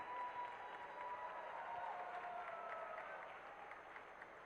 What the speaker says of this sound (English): Let's go ahead and give each of them a round of applause as we bring them up to stage.